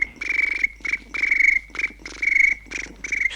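A voice imitating a cricket, giving a series of shrill, buzzy chirps in short bursts with brief gaps between them, close and fairly loud.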